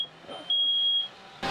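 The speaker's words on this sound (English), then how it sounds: "At least we know our smoke detector works." A shrill, steady electronic beep holds for about half a second over a quiet room, followed by a short burst of noise.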